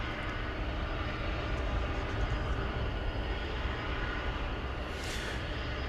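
Qantas Flight 8, a 14-year-old Boeing 747 bound for Sydney, roars steadily on the ground at DFW Airport at night. The broad, dense engine rumble is continuous and fairly close, with no talk over it.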